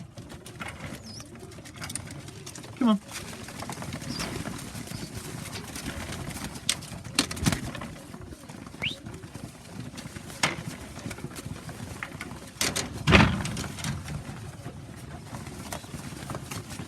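Young pigeons coo in a loft, with soft, scattered cooing and occasional wing and foot shuffles over a low background; someone speaks briefly.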